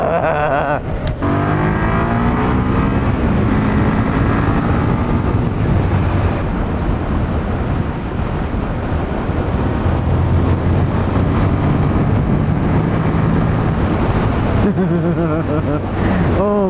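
A 24-year-old Suzuki SV650 S motorcycle being ridden, its engine droning steadily and shifting pitch through gear changes, with loud wind buffeting throughout.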